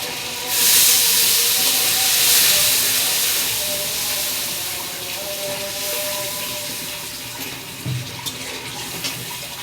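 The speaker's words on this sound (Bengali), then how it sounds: "অল্প একটু পানি দিয়ে দেবো।" Water poured onto frying ginger-garlic and coriander spice paste for a small-fish curry, a loud burst of steaming hiss that settles into a steady sizzle, with a few faint clinks near the end.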